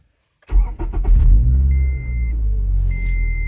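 A car engine cranks and catches after a motor mount swap to harder polyurethane bushings, with a short burst of starter turnover followed by a steady, loud, low idle rumble and a faint tone.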